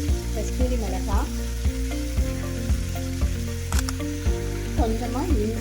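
Sliced onions sauté in a hot pan with salt, a continuous sizzle broken by regular scraping stir strokes roughly every half second, close and fairly loud.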